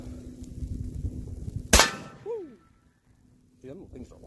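A 12 gauge shotgun fired at a propane tank sitting in a fire: one sharp, loud outdoor blast with a short ringing tail, after an ambient stretch, followed by a voice whooping.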